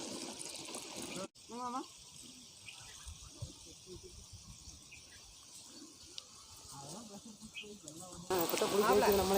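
Pressurised water sprays from a rain pipe sprinkler, a hissing rush at the start that returns louder and fuller near the end, with a person talking in between.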